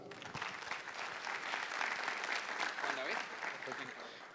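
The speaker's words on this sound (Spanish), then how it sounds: "démosle la bienvenida, por favor, un aplauso" Sustained audience applause welcomes a speaker at a conference on Big Data, a dense, even wash of clapping from a crowd at moderate distance, with a few voices mixed in.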